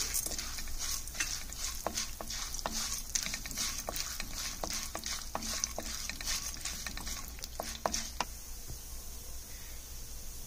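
Urad dal and other ingredients for cabbage pachadi frying and being stirred in a pan, giving a steady soft sizzle broken by repeated scraping stirs; no talking.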